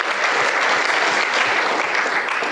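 Applause rings out at a union congress of the FGTA-FO, steady and dense, with a crowd clapping loudly throughout and no pauses.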